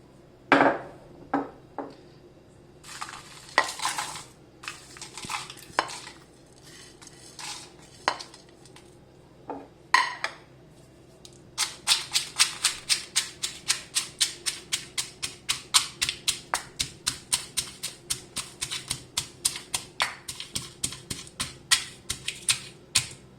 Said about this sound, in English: So I choose to do the masala paste in this mortar and pestle so that you get the maximum and good traditional taste out of the masala.